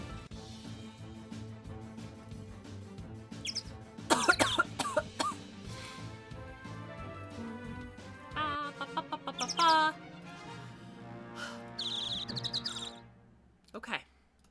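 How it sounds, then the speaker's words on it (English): A high-pitched bird sound effect from the Phoenix Wright: Ace Attorney game, with bursts of chirping and clucking calls repeated through the clip over background game sounds. "this bird sound effect is really fucking annoying"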